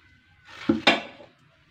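Flour being mixed into butter in a bowl, two quick clattering knocks of utensil against the bowl around a soft scraping stir, otherwise quiet.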